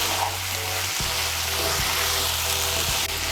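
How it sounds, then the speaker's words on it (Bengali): Ash gourd pieces fry over high heat in a pan for a prawn and ash gourd dish as their water cooks off. A steady broadband sizzle runs throughout with a low hum and a few soft knocks of stirring. "চাল কুমড়াটাকে ভালো করে ভেজে নেব যতক্ষণ না পর্যন্ত জলটা শুকিয়ে যায়"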